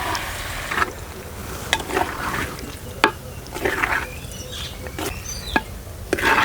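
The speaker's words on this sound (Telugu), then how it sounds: "ఈ రొయ్యలు వేసుకోగానే సగం చెంచా పసుపు, సగం చెంచా ఉప్పు కూడా వేసుకొని బాగా కలుపుకుందామండి." Prawns being stirred in a pan with turmeric and salt, a moist scraping and clinking of a spoon against the pan with small sharp knocks, close up and without speech.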